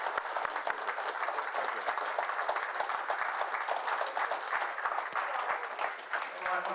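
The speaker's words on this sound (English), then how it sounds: "Quick round of applause to Kevin." Audience applause after a talk: a dense, steady patter of many hands clapping throughout, fairly close and sustained at an even level with no voices over it.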